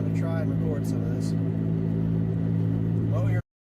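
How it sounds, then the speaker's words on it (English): Constant low road rumble and tire noise from inside a moving car on a road trip, a steady drone that cuts off abruptly at the end. "So that road sound you're hearing isn't me running over rumble strips or anything."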